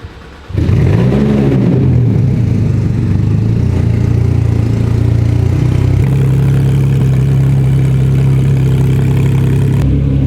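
A broken Porsche GT3 RS engine starts and runs with a misfire, a loud rough idle with uneven, stumbling pulses and a slight rise in pitch partway through, steady and close with no talk.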